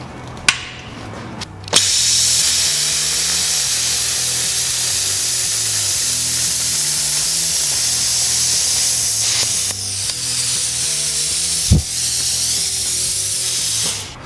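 Hypertherm Powermax 45 XP plasma cutter blowing post-flow compressed air, a loud steady rushing hiss lasting about ten seconds, framed by a couple of sharp clicks and a brief drop in the airflow.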